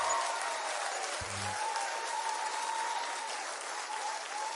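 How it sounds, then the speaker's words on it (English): Continuous audience applause for participants at a live online game-show style event, an even, dense clapping texture sustained throughout at steady volume. "one more round of applause for everybody who lasted all the way"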